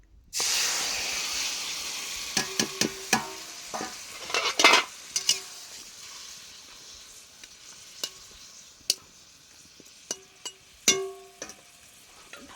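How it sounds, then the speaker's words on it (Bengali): Fish mixture for steamed fish poured into a preheated wok, giving a loud, steady sizzle and hiss that runs throughout, broken by sharp scraping and clattering knocks of a utensil against the pan. "কড়াটা আমার তেতেও গেছে আমি এখন মাখাটা ঢাকে ঢেলে দেবো মাছ মাখাটা"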